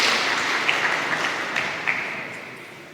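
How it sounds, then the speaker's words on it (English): A seminar audience claps for students, a dense, steady burst of applause that slowly tapers off over a few seconds with no talk over it. "Please clap hands for them."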